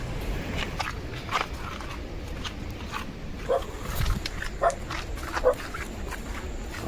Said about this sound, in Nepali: हाम्रो डग राजा चाहिँ भुक्दैछ